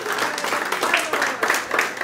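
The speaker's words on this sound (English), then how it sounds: "Let's give God another hand clap of praise." Church congregation giving a round of applause, a continuous crowd of hands clapping together with faint cheering or voices mixed in, steady and fairly close throughout.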